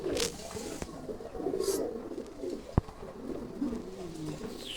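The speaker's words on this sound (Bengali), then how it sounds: "খুব ভালো একটা জাতের কবুতর এটা," A pigeon of a fancy exhibition breed coos in low, soft rolling notes close by, with a sharp click and some faint background noise.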